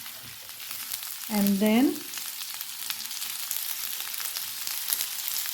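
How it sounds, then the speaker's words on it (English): Cauliflower stir-frying on high heat in a pan for dry aloo gobi, a steady sizzle running throughout, with a brief voice speaking near the start. "Let's add in the cauliflower and keep the heat high. Cook stirring for a minute"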